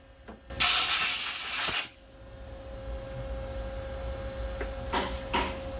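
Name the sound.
machining down a hardened steel weld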